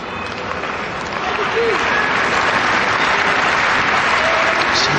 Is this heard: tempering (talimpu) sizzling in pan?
no